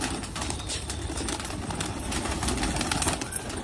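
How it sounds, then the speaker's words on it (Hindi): Pure desi pigeons coo softly in a loft, faint and fairly distant, under steady background noise with occasional wing rustles. "ये प्योर देसी कबूतर है"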